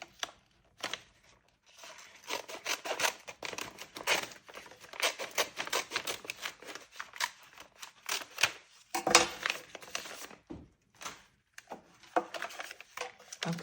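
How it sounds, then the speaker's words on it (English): A paper bag being roughly trimmed for a junk journal: a busy run of crisp cutting and paper rustling crunches in irregular bursts, fairly close and with brief pauses between strokes. "I'll do a rough trim here because I actually want to use this here. So we'll do rough. A rough cut here."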